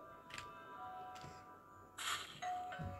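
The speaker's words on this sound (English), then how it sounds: "Ding dong." A doorbell rings in a Roblox game: soft chimes and bright ding tones sound several times over a faint steady background hum, with no talking.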